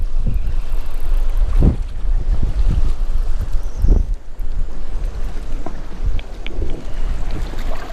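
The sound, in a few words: strong wind on a boat on Lake Sakakawea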